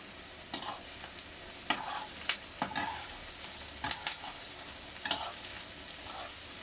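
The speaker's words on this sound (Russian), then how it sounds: "Вот видите, жареха вполне даже очень активно идет." Vegetables frying in a pan for green borscht, a steady sizzle with repeated sharp scrapes and clatters of stirring, close by and without talk.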